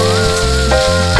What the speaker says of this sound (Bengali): এটাকে আমি এইভাবে করে সুন্দর করে ভেজে নেব